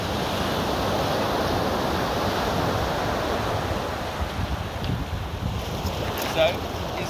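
A light wind blows over open water, making a steady, soft rushing noise against the microphone that eases slightly toward the end, with a small bump near the close.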